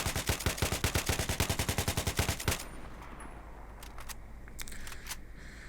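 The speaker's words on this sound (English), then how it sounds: "Now I'm going to show the effects of the tap firing" AK-74M rifle fire in Battlefield 3: a loud, fast string of about twenty close shots over two and a half seconds, followed by fainter scattered game sounds.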